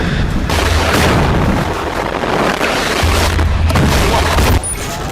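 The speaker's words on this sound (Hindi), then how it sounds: "सैनिक हमास के ठिकानों पर बारूदी वर्षा कर रहे हैं।" Heavy artillery shelling of Hamas positions in Gaza booms loudly and continuously, dense overlapping blasts and rumble filling the whole stretch with no let-up.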